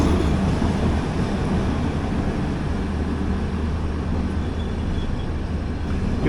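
The Chennai–Bodinayakanur AC Superfast train rolls over points, heard from inside an AC 3-tier coach as a steady, loud low rumble with continuous wheel rattle and no voices.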